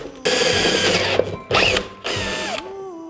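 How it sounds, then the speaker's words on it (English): Power drill boring eye holes in a flaming skull mask, three loud whirring bursts separated by short pauses, each rising and falling in pitch as the motor spins up and down, close by with no talk. "I'm gonna drill these eyes out first"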